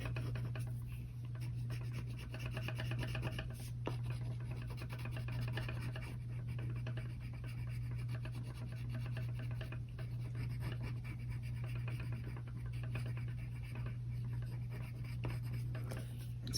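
A dark brown crayon scratches softly across paper in steady back-and-forth strokes while a jack-o'-lantern drawing is colored in, faint and close under a low background hum.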